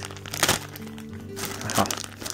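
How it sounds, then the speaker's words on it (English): Packing tape is tugged and peeled off an anime figure box, giving close crackling rips and cardboard crinkles in two louder bursts amid ongoing rustling. "The down part about doing this is trying to get the tape off. They taped it up pretty good."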